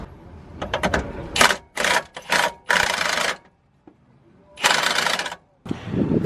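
A pneumatic impact wrench hammers at an engine pulley bolt in bursts of rapid rattling, several short bursts followed by longer runs with brief pauses between them, close and loud.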